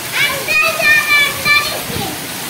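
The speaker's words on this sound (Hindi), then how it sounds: "यहाँ देखिए पूरा नाली से ऊपर पानी जा रहा है" Floodwater pours over the top of a street drain and runs across the road, a steady rushing flow heard under people talking close by.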